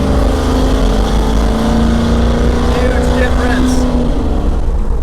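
A car fitted with a Boss Hog 10 inch, 2200 stall torque converter launches loudly, its engine note holding a strong steady drone as revs rise, with a voice heard briefly over it.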